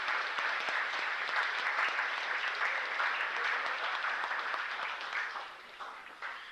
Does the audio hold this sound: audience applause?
yes